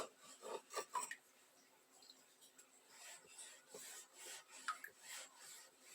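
A knife saws through a loaf of homemade bread, cutting slices for garlic toast with soft, rhythmic rasping strokes, close and fairly quiet, with no talk over it.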